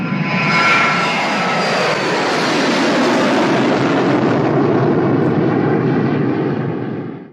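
A Lufthansa Boeing jet airliner's engines roar loudly and steadily, a dense, continuous drone that holds throughout before cutting off sharply at the very end, with no voices over it.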